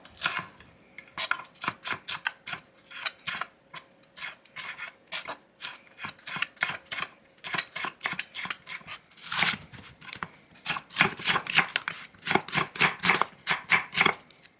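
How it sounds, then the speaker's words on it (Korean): Rapid rhythmic knife strokes slice shiitake mushrooms lengthwise into strips on a cutting board, steady close taps continuing throughout and growing slightly louder near the end. "실을 제거해 주시고 길이대로 채 썰어 볼게요."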